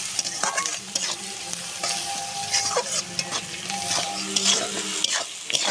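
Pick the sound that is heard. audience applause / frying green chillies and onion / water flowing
frying green chillies and onion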